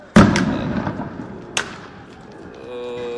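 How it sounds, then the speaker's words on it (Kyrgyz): Police fire rubber bullets on a street during a clash with stone-throwing protesters: one sharp, loud report echoes, a second fainter shot follows about a second and a half later, then a low steady hum remains. "желим октор менен аттыкканы айтылып атат"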